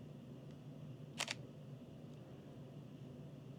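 A Fujifilm X-T5 mirrorless camera fires its shutter once, a quick double click that is faint and isolated against a quiet room hum.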